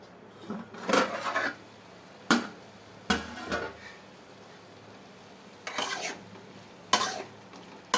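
A ground capsicum curry mixture being stirred in a pan on low flame, heard as a few separate, brief scraping strokes against a quiet background.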